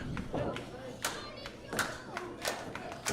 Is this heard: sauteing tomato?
no